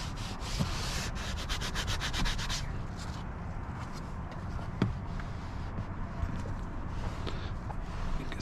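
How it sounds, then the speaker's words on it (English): A Scrub Ninja or Color Lock brush scrubs Ethos Fresh interior cleaner, barely foaming, into a leather car seat, giving close, continuous rough rubbing strokes with a quick burst of fast scrubbing at the start. "I don't really have it foaming using the Scrub Ninja or the color lock brush"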